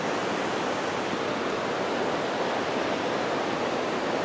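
Potato River Falls, a waterfall over basalt rock in a deep river gorge, gives a steady, dense roar that stays even and unbroken throughout, with no voices.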